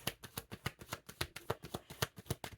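Tarot cards riffled in a rapid series of about fifteen crisp, evenly spaced flutters and slaps, close up and alone with no talk.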